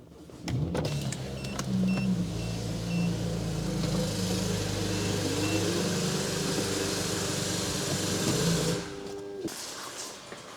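A BMW 335i starts up and idles steadily in a shop, the motor's low hum holding for several seconds before cutting off abruptly near the end.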